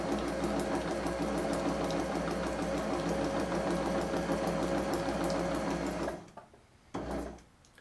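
A sewing machine stitches along a line on a practice sheet with a steady, rapid mechanical whir for about six seconds. It stops, gives one short burst, then falls quiet. The sound is close, with no talking.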